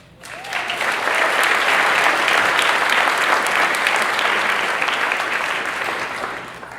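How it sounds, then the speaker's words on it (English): Wedding guests applaud the parents who organized the celebration, a broad, sustained wash of clapping that swells in, holds steady and tapers slightly toward the end. "I'd like to get a round of applause for the parents for putting together this amazing wedding"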